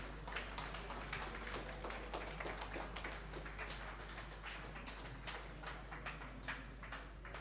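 Crowd at a WordPress London meetup clapping for two speakers, a soft, distant patter of many hands that holds steady for several seconds with no voices over it.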